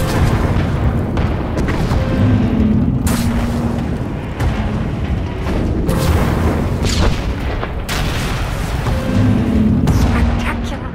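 Failsafe emitters firing and setting off explosions in Star Wars: The Old Republic, heavy repeated booms and rumbling blasts rolling one after another, with intermittent talk running underneath.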